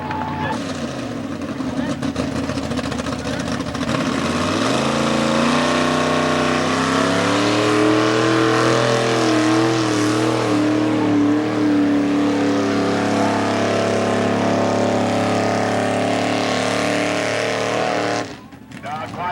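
Chevrolet truck tearing through a mud bog run at a 1995 Plymouth mud bogs event, engine roaring loud and close, climbing steeply in pitch as it revs hard, holding a high wail, then cutting off abruptly near the end.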